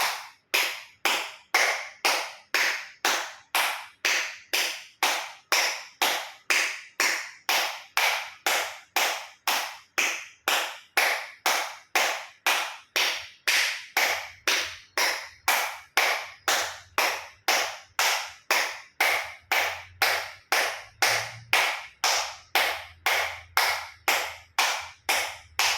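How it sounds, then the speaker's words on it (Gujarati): Hands clap hard in a steady, even rhythm for acupressure during a yoga session, with about fifty loud, sharp claps close by and no pauses. "એક્યુપ્રેશર તાળી પૂરેપૂરા પંચાંગળીઓ બધું ટચ થાય એ રીતે 50 વખત જોર જોરથી તાળી"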